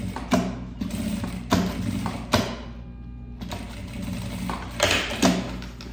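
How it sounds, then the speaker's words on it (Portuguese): Home sewing machine running its longest stitch to topstitch fabric on a small round bag, a steady mechanical whir with brief pauses and stops, close by with no talking. "vou passar um pesponto nesta parte, o maior ponto da sua máquina"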